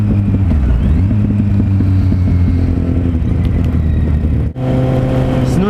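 A motorcycle accelerates to pass a slow car, the engine rising in pitch through gears with a brief shift dip, loud and close over wind rumble.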